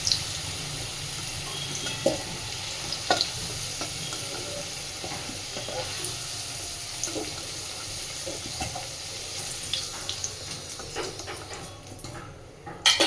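Potatoes fry in hot oil, crackling and sizzling steadily at close range, with scattered pops and the clatter of a utensil stirring and lifting them from the pan.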